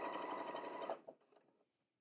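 Close, rapid mechanical whirring from a sewing machine stitching a t-shirt runs steadily, then stops, followed by a few faint clicks and handling sounds.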